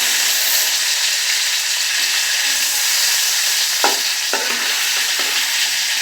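Soft fish frying in a pan, a steady hiss of oil with a few sharp clicks and scrapes from flipping partway through, close and continuous, with no talking.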